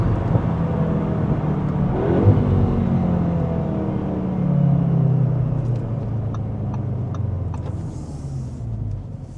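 An Audi S3's exhaust rumbles while the car drives, a deep, steady engine drone that swells briefly as it accelerates, heard from inside with no talking.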